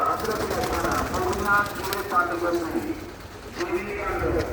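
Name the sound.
pigeons cooing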